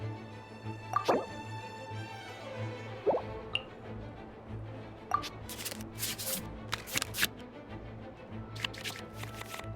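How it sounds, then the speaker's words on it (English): Light card-shuffling and flicking sounds from a card game in Genshin Impact, with soft drips and plops, a few sharp clicks scattered across a quiet, low hum. "we can select any number of cards in our hand to shuffle back into the draw pile"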